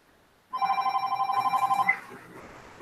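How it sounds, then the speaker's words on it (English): A telephone bell rings loud and close in a steady trilling burst for about a second and a half, then cuts off, leaving faint room tone. "That's my phone."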